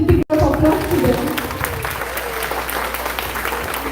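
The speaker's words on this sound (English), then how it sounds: "I ask everybody to give one more energetic applause to them." Loud, energetic audience applause at a kids' cultural event, dense clapping heard up close and continuing steadily throughout after a brief dropout at the start.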